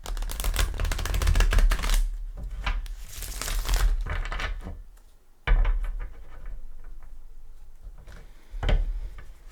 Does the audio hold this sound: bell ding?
no